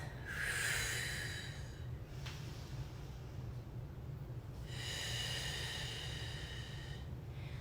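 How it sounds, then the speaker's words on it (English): Deep, slow breaths during a morning yoga stretch, two long drawn inhale-exhale cycles with a rushing, airy quality, close and steady over a low background hum. "Take a nice big deep breath."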